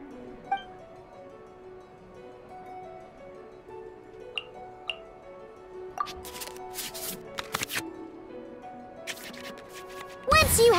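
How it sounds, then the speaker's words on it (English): Virtual cards shuffling back into the draw pile in a digital card game, a run of soft papery riffles and clicks over quiet game music, with a louder burst near the end. "we can select any number of cards in our hand to shuffle back into the draw pile, and then draw the same number of new cards"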